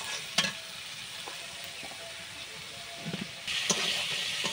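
Spices with turmeric sizzle steadily in hot oil, a close, continuous frying hiss with occasional stirring scrapes and a brighter surge of sizzle near the end.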